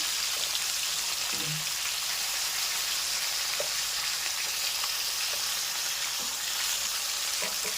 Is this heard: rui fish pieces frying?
yes